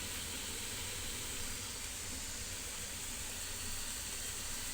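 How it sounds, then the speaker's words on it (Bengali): Potatoes and pointed gourd frying together in oil with salt and turmeric, a steady even hiss of sizzling held at a constant moderate level throughout, with no talk. "আমি প্রথমে আলু আর পটল একসঙ্গে ভেজে নেবো"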